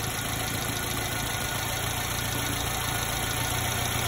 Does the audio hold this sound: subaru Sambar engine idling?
yes